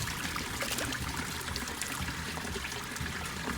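Spring water trickles from tree roots near Lunugala cave. It makes a soft, continuous, bubbling dribble with a faint broadband wash and no voices.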